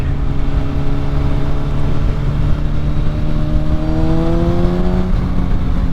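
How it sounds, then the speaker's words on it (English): A 2006 Honda CBR1000RR sport motorcycle engine holds a loud, steady drone through an aftermarket exhaust, its pitch rising into a rev near the end before settling back down. "I don't know what exhaust he's got on it, but it sounds fantastic"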